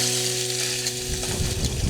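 Pork chop frying in a pan at a mountain campsite, a close, loud, continuous sizzle and crackle with a low hum at the start, no talking.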